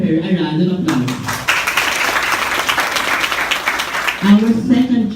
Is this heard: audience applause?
yes